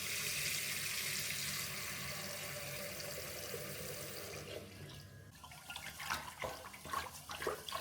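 Rice is rinsed with clean water, first a steady running stream hissing from the tap, then it cuts off into sloshing and splashing as grains are swirled in the pot, fairly quiet and close.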